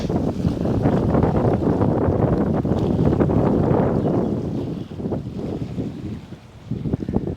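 Strong wind on the shore of Kaptai Lake buffets the microphone in a steady, loud roar, easing briefly near the end before gusting again.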